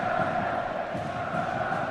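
A capacity stadium crowd at an Atlético Madrid versus FC Barcelona Copa del Rey football match roars and chants, a dense, steady, raucous wash of distant voices.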